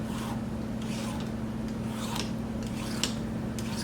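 A zucchini is peeled in a kitchen with a hand peeler, giving a run of short, soft rasping scrapes over a steady low hum, with no talking.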